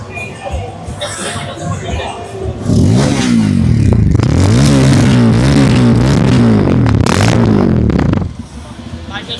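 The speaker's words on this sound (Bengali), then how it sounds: "বাইকের সাউন্ডটা অনেক সুন্দর।" A Bajaj Pulsar F250 motorcycle with a dual-barrel exhaust revs loudly and close by, its engine note rising and holding steady for several seconds before dropping back to a lower idle.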